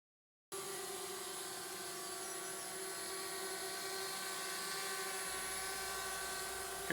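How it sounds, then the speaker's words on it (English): A drone hovers and flies overhead above Mosby Creek on a forest road survey, its high, steady rotor whine starting abruptly and holding at an even, moderate level throughout. "Here we see Frank using the drone to inventory Mosby Creek."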